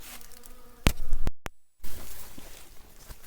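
A handful of honeybees at an autumn hive, a close buzzing drone broken by a couple of sharp knocks and a brief dropout before the humming resumes.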